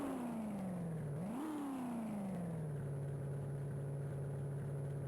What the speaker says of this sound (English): It's just engine noises.